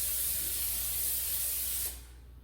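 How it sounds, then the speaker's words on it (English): Pam cooking spray hisses in one continuous, loud burst onto cake pans for about two seconds, then cuts off abruptly, leaving only quiet room noise. "let's get these pans sprayed. Just using some Pam spray."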